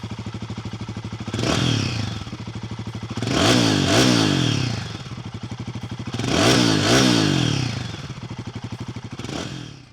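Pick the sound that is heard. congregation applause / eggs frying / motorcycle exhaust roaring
motorcycle exhaust roaring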